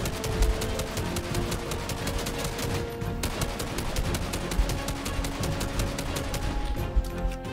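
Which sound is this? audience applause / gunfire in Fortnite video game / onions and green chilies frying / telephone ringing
gunfire in Fortnite video game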